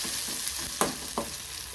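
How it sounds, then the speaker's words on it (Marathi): Green chilies roast in a kadhai, a steady sizzle broken by a couple of sharp scraping stirs, close and alone without talking. "कारण उन्हाळ्यात मिरच्या भाजून घेतल्या आपल्या कढईत."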